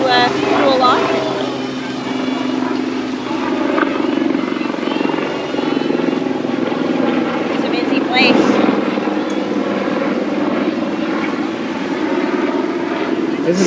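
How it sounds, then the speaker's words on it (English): Aircraft engines droning over a busy seaplane harbour by the Stanley Park seawall in Vancouver, a steady loud rumble with wind buffeting and a person talking over it. "Which explains the airplanes and the helicopters and whatnot flying around."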